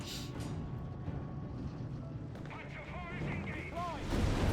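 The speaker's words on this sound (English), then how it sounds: "they're getting hit by the anti-tank guns" Anti-tank guns fire in a Company of Heroes 3 match between Wehrmacht and US forces, with battle booms and rumbling over dense game noise and a steady, fairly loud din.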